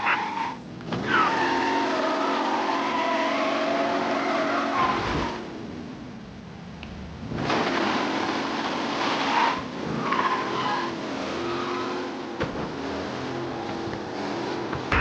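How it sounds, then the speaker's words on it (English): A race car tearing through city streets during a police pursuit in Mafia Definitive Edition. A loud, steady engine roar with screeching tire skids dips briefly midway, then surges back and holds. "Officers reporting a race car driving at speed through the city"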